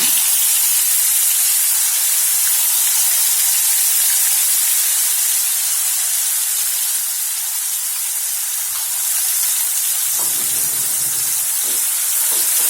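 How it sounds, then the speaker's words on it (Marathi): Steady, loud hiss of spice paste frying in hot oil with asafoetida for a mixed vegetable dish. The sizzle runs unbroken throughout, with a few faint low knocks near the end. "याला छान तेलावर परतून घेऊया मसाला एकदम छान सोनेरी रंग परतायचा"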